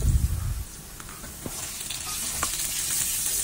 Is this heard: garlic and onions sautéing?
yes